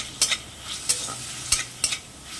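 Onions frying in a pan for a potato filling are stirred with four sharp scraping strokes over a soft, steady sizzle, close and clear with no talking.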